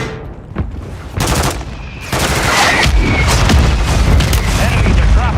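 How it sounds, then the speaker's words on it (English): Mortar strikes in a video game land as a string of loud, close booming explosions, several blasts in quick succession that build into a sustained rumbling barrage, with a brief voice near the start. "Friendly mortar strike inbound."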